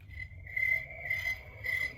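A cricket chirping sound effect plays from a toy sound button stuck on, faint repeated trilling bursts in a steady rhythm with a soft low hum beneath.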